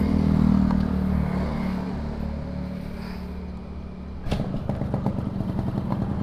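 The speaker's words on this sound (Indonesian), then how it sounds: "kita coba motor RX King" A Yamaha RX King two-stroke motorcycle engine, a loud buzzing idle with a steady low drone that then breaks into a sharper, rapid popping rev close to the microphone.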